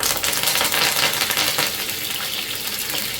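Curry leaves sizzling in hot oil with mustard seeds and urad dal, a loud, steady crackling fry with bursts of popping, close up and unbroken.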